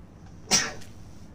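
A single sharp sneeze, close and fairly quiet, bursts out once against an otherwise still background.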